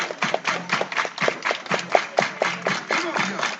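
Crowd at a varsity high school baseball game clapping hands in a steady rhythmic beat, a dozen or so claps under an announcer's voice, fairly near and lively.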